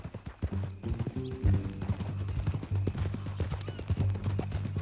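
Steady clip-clop of horse hooves at a walking pace in the video game Red Dead Redemption 2, with faint mechanical clinks mixed in and no voices.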